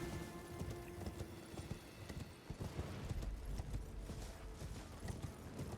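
A horse's hooves clatter in a steady galloping clip-clop rhythm in the game Elden Ring, moderately close, over a low rumbling backdrop with a faint neigh-like tone.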